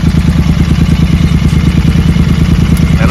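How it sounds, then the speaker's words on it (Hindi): A Royal Enfield Continental GT 650 fitted with an Atom barrel exhaust idles in a steady, loud, close throb, its rhythmic pulsing unbroken throughout with a faint high whine above. "एटम बैरल एग्जॉस्ट करना भाई स्टार्ट।"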